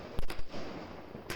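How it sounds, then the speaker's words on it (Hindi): Diwali firecrackers bursting outdoors: several sharp bangs in close succession, then another burst a second later, all over a steady background din of distant celebration. "फिर ऊपर पटाखे"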